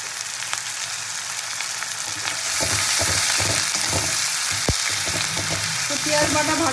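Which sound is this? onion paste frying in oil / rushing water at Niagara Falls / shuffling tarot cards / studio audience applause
onion paste frying in oil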